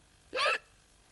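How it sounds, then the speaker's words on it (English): A single sharp hiccup, close and brief, stands alone against a quiet background. "All he ever does is hiccup all day long."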